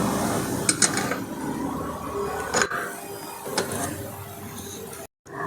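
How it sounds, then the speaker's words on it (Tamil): Spare car wheel nuts are tightened with a wheel spanner, giving a run of close metallic ratcheting clicks and scrapes. A few sharper clanks stand out, then a short gap of silence falls near the end. "நெக்ஸ்ட் வீல் ஸ்பேனர் வச்சு கொஞ்சம் நல்லா டைட் பண்ணிவிட்டு"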